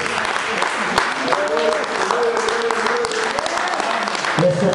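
A church congregation at a Sunday sermon applauds and cheers together, a dense wash of clapping and joyful shouts mixed with voices calling out, loud and sustained throughout.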